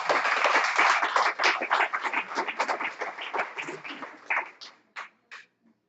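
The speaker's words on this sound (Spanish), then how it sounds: "Den un fuerte aplauso al Señor." A church congregation claps at a live worship service, dense and loud at first, then thinning into scattered, separate claps that fade out near the end.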